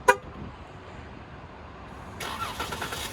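A 2018 Dodge Charger SXT gives a short horn chirp as it is locked for remote start, a brief sharp burst at the very start followed by quiet and then a low idling rumble as the engine comes to life.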